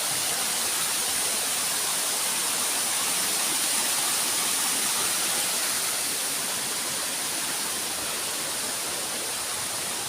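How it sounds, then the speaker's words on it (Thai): A small waterfall on a hillside near Ban Huai Huat, pouring in a steady, loud broadband rush that fills the whole ten seconds without a break, with no voices over it. "อันนี้เป็นน้ำตกน้อย"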